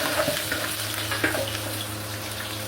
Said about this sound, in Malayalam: ജിഞ്ചർ ഇടാം, പച്ചമുളക് ഇടാം. അതൊന്ന് മൂപ്പിച്ചെടുക്കാം.